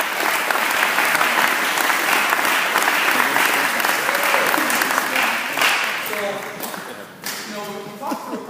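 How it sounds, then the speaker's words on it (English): Audience applause for a presenter at a dealer consultant retreat: steady, dense clapping from a room full of people that fills most of the clip, then fades out as a voice begins speaking near the end. "So, round of applause for Kyle"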